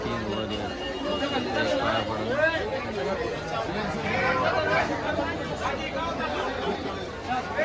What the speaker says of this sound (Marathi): मग फुल गर्दी झाली इथं फुल